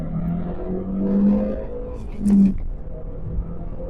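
An Audi TT's engine surges as the car accelerates on the road, a steady drone that swells louder around the middle of the run and then settles back.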